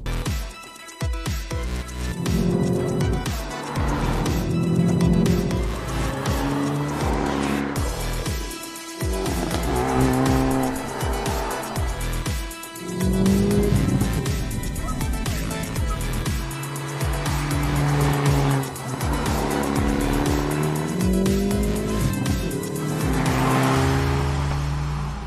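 A Hyundai i30N driven hard around a race track, its engine revving and surging through repeated acceleration cycles while the tires squeal through the corners, loud and continuous.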